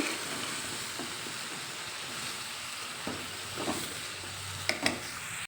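Ridge gourd frying and being stirred in a hot pan gives a steady low sizzle, with a few soft scraping stirs and brief clinks of the spoon near the end.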